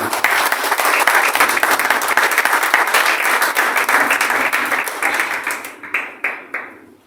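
A church congregation bursts into sustained, dense applause during a pastor's sermon, loud and steady for several seconds before thinning into a few scattered final claps.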